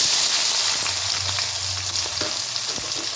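Chopped onion hisses and sizzles in hot oil with whole spices, a loud, steady, close frying sound without any talking.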